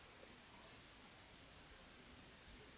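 A computer mouse right-clicked a couple of times, sharp quiet clicks close together near the start plus one more at the end, against a near-silent room.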